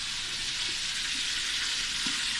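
Hot dogs and eggs frying together in two pans for a 25-person catering order, giving a steady, dense sizzle throughout with faint occasional pops and no voices.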